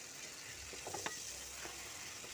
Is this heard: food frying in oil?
yes